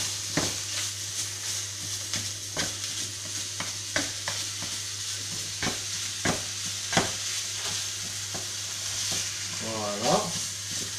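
Ground meat for a burger frying with spices in a pan, a steady hiss broken by repeated scrapes of stirring, with a brief voice near the end.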